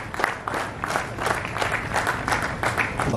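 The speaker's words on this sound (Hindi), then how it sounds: "बहुत सारी तालियां बजाएंगे, शोर मचाएंगे" Audience at a tribute event clapping steadily, with rhythmic bursts of many hands and some crowd noise underneath, sustained and fairly close.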